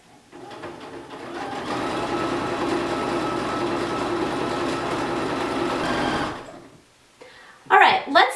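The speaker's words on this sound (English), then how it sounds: "You're going to stitch until you're within a 1/2 inch of the corner, stop with your needle down, pick up your presser foot" A sewing machine stitches along the edge of a baby blanket, a steady close motor whir with rapid needle clatter for several seconds, then stopping, followed by a short burst of talk.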